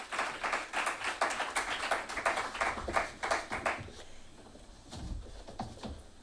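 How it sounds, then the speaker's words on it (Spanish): An audience at a sports psychology conference claps for three speakers taking their seats. Brisk, fairly close clapping holds for about four seconds, then tapers off, leaving faint room noise and a few low thumps. "Un aplauso para los tres,"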